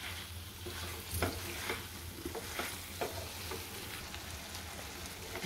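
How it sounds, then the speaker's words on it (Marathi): Eggs sizzle and fry in a thick masala gravy, with a steady crackle and spatter broken by repeated stirring scrapes close by, and no voices. "ग्रेव्हीमध्ये चांगले 2-3 मिनटं आपल्याला परतून घ्यायचे आहेत अंडी."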